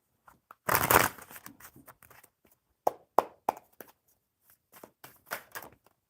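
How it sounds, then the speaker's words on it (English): Tarot cards being shuffled in a few quick riffles and soft slaps, with brief pauses between bursts, close and clear. "One more good shuffle for Alina."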